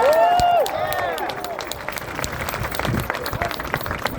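A crowd at a reparations rally in Washington, DC applauds with dense, sustained clapping after a voice trails off at the start, the applause continuing steadily to the end.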